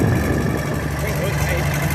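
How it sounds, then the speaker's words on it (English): A prototype four-wheel-drive tractor pulls in for the heavyweight division at an antique engine and threshers tractor pull, its engine idling with a steady low rumble, close and loud throughout. "First tractor pulling in for the heavyweight division is a prototype"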